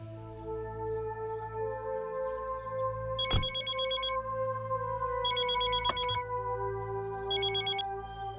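A telephone rings in three trilling bursts spaced a few seconds apart over a steady tonal background hum, with a couple of sharp clicks in between.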